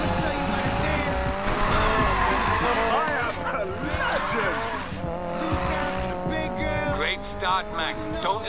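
A car drifting in Need for Speed Payback, with loud sustained tire squeal and skidding over a revving engine, wavering pitch as it slides, while people talk over it.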